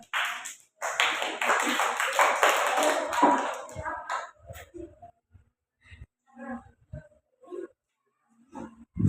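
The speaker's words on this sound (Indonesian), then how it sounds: "Sekali lagi tepuk tangan." Students in a classroom applaud a group presentation with a burst of dense, close clapping that lasts a few seconds, then thins out into scattered single claps.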